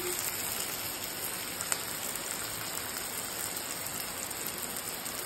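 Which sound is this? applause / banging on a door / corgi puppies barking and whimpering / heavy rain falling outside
heavy rain falling outside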